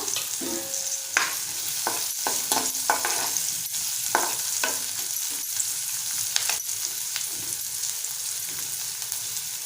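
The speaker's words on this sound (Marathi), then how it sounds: "आता आपण हिरव्या मिरचीचे जे तुकडे करून घेतले ते घालूया।" Green chilli pieces sizzle with softened onion in a pan for a Malvani-style fenugreek bhaji, a steady close frying hiss broken by repeated stirring scrapes and clinks, with no talking.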